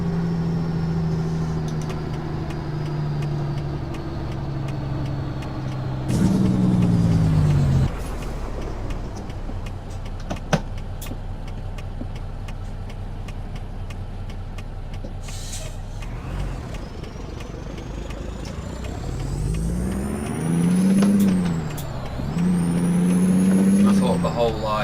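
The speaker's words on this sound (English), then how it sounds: "Traffic on the freeway." Freeway traffic with cars and heavy trucks, engines droning and rising as vehicles pass close by, with air brake hisses and a loud truck pass in the middle, a voice speaking at points.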